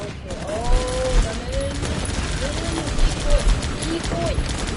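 Gunfire from the strategy game Guns Up, a dense crackle of volleys rising and falling in bursts under the steady voice of a player talking throughout.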